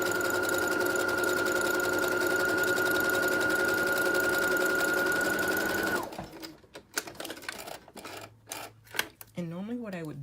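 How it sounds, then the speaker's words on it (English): A sewing machine runs a narrow stitch along the inside seam of a plain tee in one steady, continuous whir for about six seconds, then stops, leaving light handling noises and a voice talking. "So I'm going to stitch this. So I'll just do a narrow stitch there."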